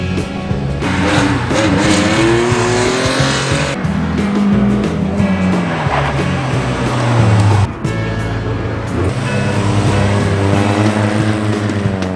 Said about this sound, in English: The MX-5 is just warming itself up over here